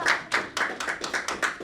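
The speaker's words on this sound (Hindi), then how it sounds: "बहन के लिए तालियां बजाएं" A church congregation claps briefly for a woman, a handful of sharp, fairly close claps in an uneven rhythm, soft overall and with no voices over them.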